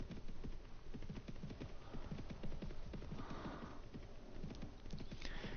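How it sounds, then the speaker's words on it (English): Horse hooves clip-clop steadily in a fast, even rhythm as a horse travels across the map in Mount and Blade: Warband, the dense hoofbeats continuous and close throughout with no talking. "watching your horse go from point A to point B"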